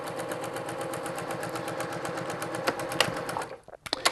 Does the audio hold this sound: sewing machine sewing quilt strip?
yes